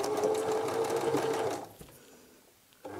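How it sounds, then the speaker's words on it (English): A sewing machine runs steadily while top stitching a dog bandana, its close, loud whirring motor and rapid needle hum continuing for about a second and a half before stopping, followed by quiet handling noises. "So let's top stitch."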